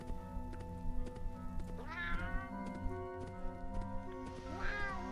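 Cat meows from a character in the video game Ni no Kuni: Cross Worlds, two rising, drawn-out calls over steady game music, the second near the end.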